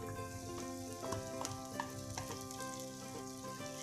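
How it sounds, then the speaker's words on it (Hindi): Onions fry in a pan for Hyderabadi chicken dum biryani, giving a dense, continuous close-up sizzle and crackle with occasional stirring scrapes and no voices. "अनियंस को हम क्रिस्प होने तक फ्राई करेंगे।"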